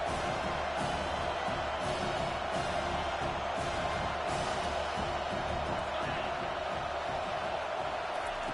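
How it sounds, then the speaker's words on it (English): A stadium crowd in a college football video game roars steadily on third down, a dense, loud wall of cheering that fills the whole stretch without letting up. "Decibels rising as the crowd gets behind this defense on 3rd down."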